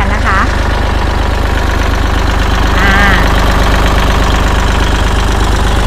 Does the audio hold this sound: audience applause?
no